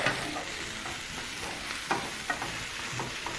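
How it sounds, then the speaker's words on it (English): Food sautéing briefly in a hot pan gives a steady, close sizzle with soft stirring scrapes and a few sharper utensil clicks throughout, with no talking. "And we're just sauteing this briefly."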